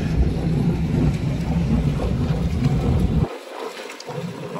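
Steady low rumble of Rodman 1100 Fisher boat engines idling and warming up, with a watery, churning texture, continuous and fairly loud, dipping briefly near the end before resuming.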